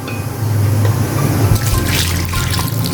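Water is poured into a pan holding garlic and five or six tomatoes, a steady close trickle and splash running for about three seconds with no talking.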